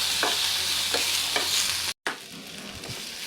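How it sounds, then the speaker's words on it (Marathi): Ginger, garlic and whole garam masala spices sizzle in a pan for a gobi matar sabzi, with a few rhythmic stirring scrapes over steady frying and a brief dropout near the middle. "आलं लसूण हे जे गरम मसाले काढून घेतले होते ते आपण यात परतून घेऊया"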